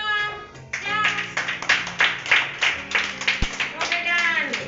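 Young children at a preschool centre clap in rapid uneven bursts close by, while voices talk and call over the clapping.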